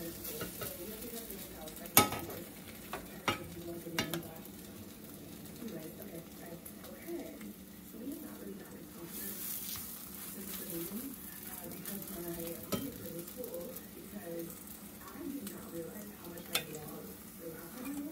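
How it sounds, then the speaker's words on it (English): Salmon croquettes fry in hot grease in a home kitchen, a quiet steady sizzle with occasional utensil clicks and taps, while a person talks faintly over it. "now I am going to get the fish in the grease"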